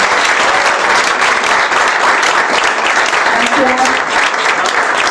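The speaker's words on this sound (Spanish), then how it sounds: "Un aplauso para Jorge Carvajal." An audience at a book presentation of Eduardo Sacheri's Demasiado Lejos at a Librerías Gandhi store gives loud, sustained applause, a thick continuous patter of clapping with faint voices mixed in.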